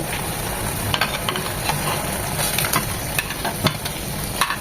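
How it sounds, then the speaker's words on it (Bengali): A spice paste is stir-fried in a pan for a fish and pumpkin curry, giving a steady close sizzle broken by frequent light scrapes and taps of a spoon, with no talking. "ভালোভাবে মশলাটা কষিয়ে নিতে হবে"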